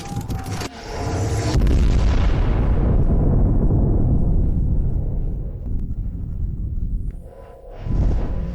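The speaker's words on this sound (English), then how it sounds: "Open fire! Discharge every single battery!" Artillery battery in a period drama opens fire, loud booming explosions rolling together into a long sustained roar that slowly fades, with a fresh blast near the end.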